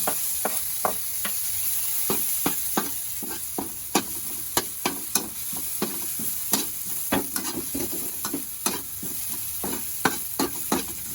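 Garlic sautés in a hot pan for sarciadong tilapia, a constant close sizzle broken by sharp, irregular scrapes and clatters of a utensil stirring against the pan.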